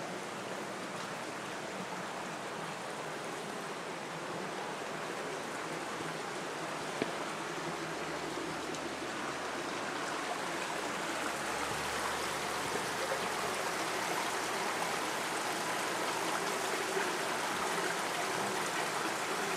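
An indoor brook runs through the Brook Room of Brookdale Lodge, producing a steady, moderate rushing and babbling of flowing water that holds evenly throughout with no talk.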